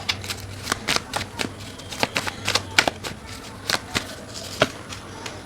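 Tarot cards riffled and shuffled close up in quick, crisp bursts of flicking and slapping, repeating irregularly with no speech over them.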